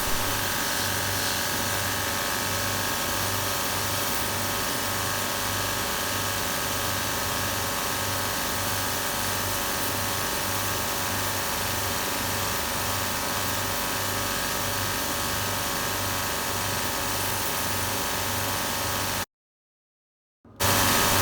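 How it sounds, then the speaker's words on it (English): A bench grinder rounds off a stainless steel plate and cleans up the rivets on a hatchet handle, giving a steady, even grinding drone with a low hum throughout that cuts out briefly near the end. "now just a quick tidy up with a bench grinder, go around the plate, round it off, and clean up the rivets"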